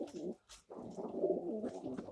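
Pigeons in a home loft cooing close by, several soft throaty rolling coos in a row with a brief pause near the start.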